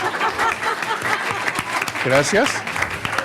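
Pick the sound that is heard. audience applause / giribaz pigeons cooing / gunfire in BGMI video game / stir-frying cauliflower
audience applause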